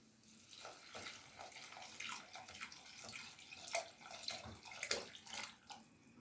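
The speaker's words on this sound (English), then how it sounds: "So once that happens, that's when I like to add my water." Water is poured into a hot pot where rice for Puerto Rican arroz con gandules has begun to fry, giving a faint splashing and sizzling stream with small bubbling bursts.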